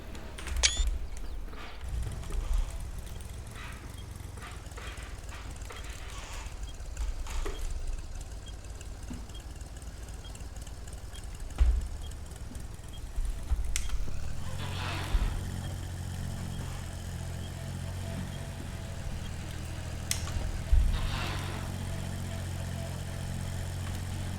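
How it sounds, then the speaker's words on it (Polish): Heavy tractor engine, a Perkins, runs steadily at work while its final drive reduction gears whine on top, a continuous mechanical drone with a few louder knocks and bumps, close by and without talk. "Tak słychać zwolnice, że..."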